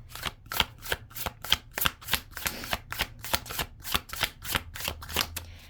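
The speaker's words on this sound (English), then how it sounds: "I don't know if I can shuffle these." A deck of tarot cards is shuffled in a steady run of about a dozen crisp riffling bursts, close and fairly loud, with no talking.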